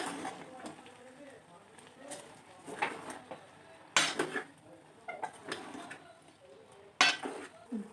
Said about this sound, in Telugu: ఇలా తెల్లపిండిలో వేసుకొని బాగా కలుపుకోవాలి